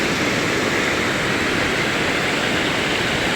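Loud rushing water current pours over a mini dam under a bridge, a dense, continuous roar close by with no pauses.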